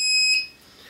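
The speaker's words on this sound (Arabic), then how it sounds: "والآن أصدقائي كما ترون هذا هو إنذار الليزر" A homemade laser security alarm sounds a steady, high electronic beep for about a third of a second, then fades to a quieter tail.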